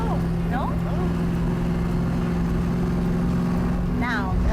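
A Yenko Camaro engine accelerates through a gear, droning steadily at a constant pitch with a low exhaust rumble, heard from inside the car, with brief voices talking over it.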